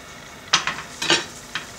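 Sliced onions go into a hot pan for a restaurant-style steak, giving a few scraping, stirring bursts over a light sizzle, close and brief with no voices.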